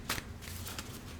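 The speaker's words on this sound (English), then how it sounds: "One more shuffle from this deck." Tarot deck being shuffled by hand, a brief papery riffle and rustle of cards close up, alone without talk.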